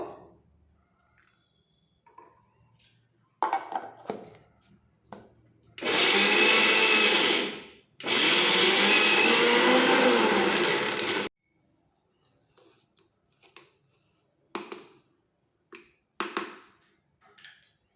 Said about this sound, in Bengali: এরকম একটু মিহি করে বেটে নিতে হবে একদম পাউডারের মতো